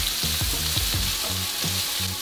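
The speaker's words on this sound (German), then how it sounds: "Jetzt lassen wir das gut anbraten." Vegetables, including zucchini, sizzle loudly in olive oil in a pan, a continuous close frying hiss with rhythmic scraping strokes from stirring throughout.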